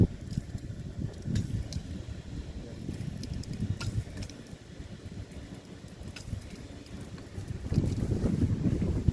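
Air sputters and hisses out of a sprinkler system's lines during spring startup, a gusty, uneven rush with faint clicks that keeps going and strengthens near the end.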